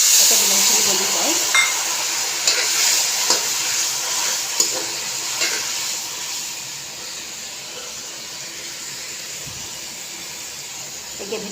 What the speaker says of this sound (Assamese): ইয়াত মই মছলা সকলো দিলোঁ। এতিয়া মই ভাজি আছোঁ।